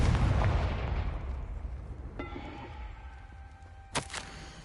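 A deep blast from a Confringo spell in the game Hogwarts Legacy opens with a loud boom that decays, followed by ringing magical tones and a sharp crackling pop near the end, with no speech.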